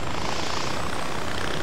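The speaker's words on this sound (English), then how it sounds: "there's a helicopter. We'll take that instead." A helicopter in the video game Far Cry 4 gives a steady, dense rotor and engine roar that holds at an even level throughout, with no voices over it.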